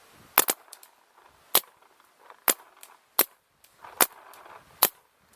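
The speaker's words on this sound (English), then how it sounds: "here's a firing comparison between a Luxe and a DM14." A Dye DM14 paintball marker fires seven sharp, snappy pops at irregular intervals, each crisp and close with a brief airy tail, separated by near silence.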